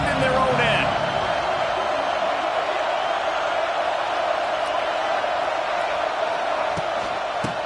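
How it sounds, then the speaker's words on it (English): A large stadium crowd at a Michigan versus Ohio State college football game roars continuously, a dense and steady wall of cheering that carries under play-by-play commentary. "The roar of the crowd trying to fuel this defense to keep them pinned in their own end."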